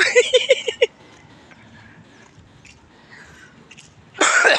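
A short burst of harsh coughs at the start, then quiet room noise, ending with another loud rough cough burst.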